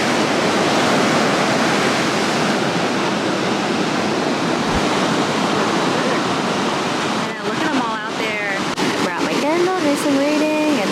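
Ocean waves at La Jolla beach in San Diego, a loud, continuous rush of surf close by, with a voice speaking over the wash near the end.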